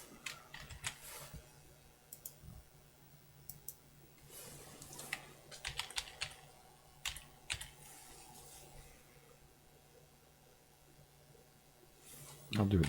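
Bursts of typing on a computer keyboard, irregular clusters of clicks with pauses between them, fairly close and moderately quiet over a faint background hum.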